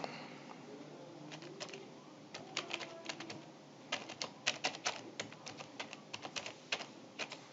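Subtitle text being typed on a computer keyboard, a quiet run of close, irregular key clicks that grows denser and steadier after a hesitant start.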